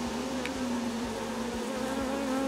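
A swarm of honeybees in a nuc buzzes in a dense, steady drone, close and continuous throughout, with no talking.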